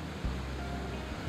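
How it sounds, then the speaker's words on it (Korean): Ocean surf breaking against the cliffs at Lands End, a dense, continuous roar of crashing water with a couple of heavier surges, close and loud with no voices. "끊임없이 밀려오고 부서지는 파도"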